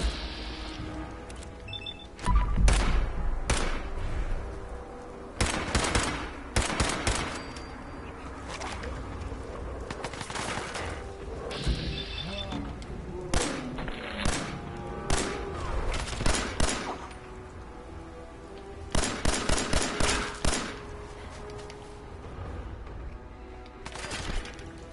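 Gunshots ring out in the video game Fallout 4, sharp cracks in scattered volleys over nearly twenty-five seconds, some single and some in rapid clusters, with no talking.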